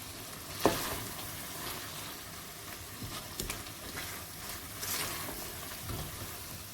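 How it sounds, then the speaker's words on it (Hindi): Chicken frying in a pan for a Mirpuri-style chicken and potato gravy, giving a steady soft sizzle with occasional stirring scrapes and one sharp knock near the start, fairly quiet and with no voices. "और ये 3-4 मिनट तक इसको हम भूनेंगे।"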